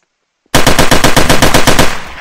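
Loud automatic gunfire from Garry's Mod bursts in after a moment of silence, a rapid, evenly spaced stream of about fifteen close shots that tails off at the end.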